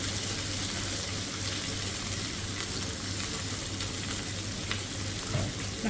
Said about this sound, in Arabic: راح نحمسهن